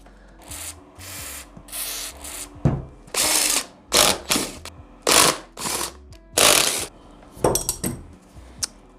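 Valve stem nuts are worked off a Honda Z50 split rim with repeated short bursts of metallic ratcheting and scraping, about ten separate bursts at close range with pauses between them.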